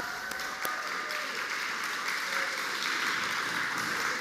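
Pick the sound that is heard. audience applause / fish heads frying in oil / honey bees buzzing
audience applause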